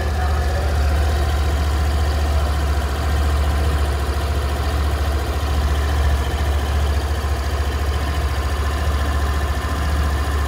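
A Suzuki Avenis 125 BS6 scooter engine idles steadily after starting, a quiet, even low hum that runs close and unbroken throughout.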